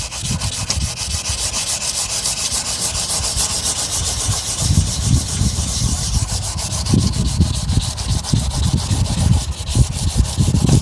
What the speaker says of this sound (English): I'm doing wet sanding or whatever, because that seems to be a little bit easier